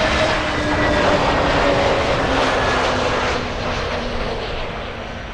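A fixed-wing airliner arriving at Miami International Airport on a gusty crosswind day, its engines roaring loudly and steadily overhead before slowly fading as it passes.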